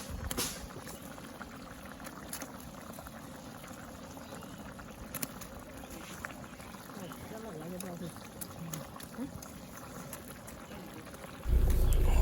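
A curry of fried fish and green plantain bubbles in a pot, a continuous low boiling and simmering burble with occasional clicks, ending in a sudden loud burst.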